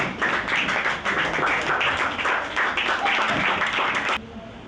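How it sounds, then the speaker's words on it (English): An audience welcomes an author to the stage at a book event, dense continuous clapping that holds steady before dropping suddenly near the end, loud and close. "with a standing ovation and resounding applause, please let's welcome Dr."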